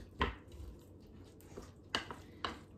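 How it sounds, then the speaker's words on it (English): A spoon works through a beef and tater tot casserole mixture in a dish, giving a few soft, scattered clunks and scrapes against a quiet background. "so we're going to stir this all around."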